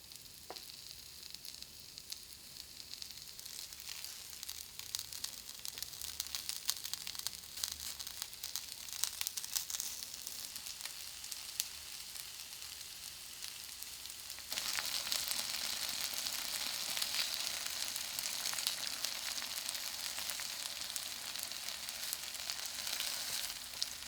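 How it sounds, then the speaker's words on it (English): Steady, close sizzling and crackling of chicken frying in a heated pan, continuous throughout and growing slightly louder partway through, with no voices. "Put the chicken in a heated frying pan until it is cooked."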